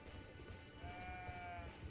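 A goat bleats once, faint and thin, over a low droning soundtrack in Elden Ring.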